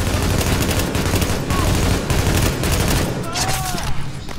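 Sustained gunfire in The Division, a loud, dense stream of rapid shots and bursts from a hard-used firearm with overlapping battle noise, continuous and close throughout.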